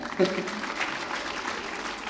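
Moderate clapping from an auditorium audience at an Urdu poetry mushaira, with a voice rising over it near the start and speech blending into the hands throughout.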